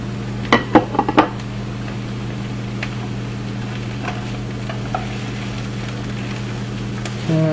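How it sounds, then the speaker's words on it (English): Mushrooms and sausage sautéing in a pan for fried rice over medium heat: a steady low sizzle runs throughout, with a few quick utensil clinks and stirring scrapes near the start and fainter taps later. "We're just going to let this saute for about 3 minutes"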